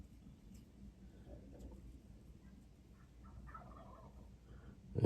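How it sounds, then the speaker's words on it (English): Distant wild turkeys, young males, gobble in bursts over a low outdoor morning rumble, faint and far off, with a louder thump at the very end. "Can you hear the gobbling?"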